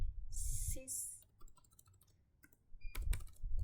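Keys are tapped on a computer keyboard to enter a password, a few quiet clicks close by, with a louder burst of keystrokes near the end and brief background sounds.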